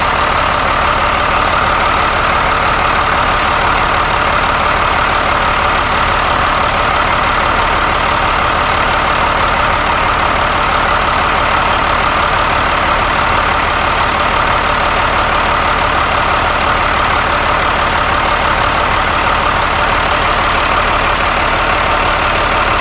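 Cummins 6BT diesel engine idling after a turbo install, a loud, steady, close rumble that holds unchanged throughout with no voices.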